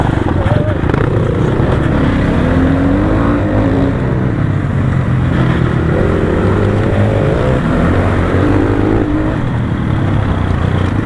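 A motorcycle engine drones loud and steady while riding, rising and falling with the throttle under heavy wind buffeting, its pitch shifting gradually throughout.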